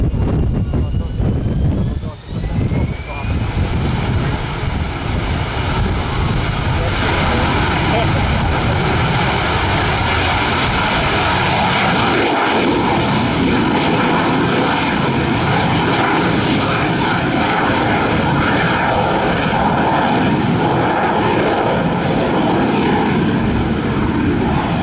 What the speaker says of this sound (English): the Harrier, short takeoff.